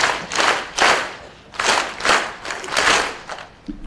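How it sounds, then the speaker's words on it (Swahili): An audience at a government e-government working session claps together in a patterned rhythm, bursts of loud collective applause in repeated groups across the room. "tupige yale makofi ya 3 factorial"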